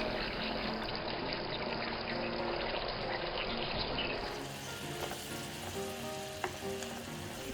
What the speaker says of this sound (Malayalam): ഇനി ഈ തേങ്ങാപ്പാൽ വറ്റി വരും വരെ നമ്മൾ വെയിറ്റ് ചെയ്യണം.